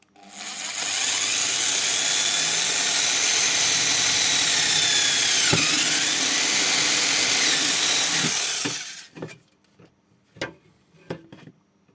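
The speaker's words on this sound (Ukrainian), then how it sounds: "сварвуємо отвір під клепку" A power drill boring a 4.2 mm hole for a 4 mm rivet in a car roof rail mount: a loud, steady whine for about eight seconds that sags as the bit cuts, then stops, followed by a few light clicks and taps.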